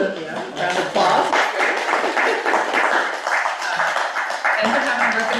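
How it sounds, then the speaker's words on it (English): Applause from a school committee meeting audience, a steady mid-level patter of clapping that rises after a brief start, with voices mixed underneath throughout. "Yeah, round of applause"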